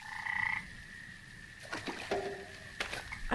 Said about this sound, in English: hearing frogs singing in the pond